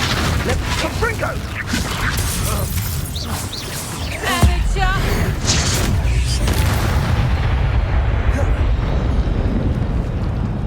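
Confringo fire explosion spell in Hogwarts Legacy, with heavy booming blasts and a sustained roaring rumble that persists loud and dense throughout, along with crackling bursts layered over it.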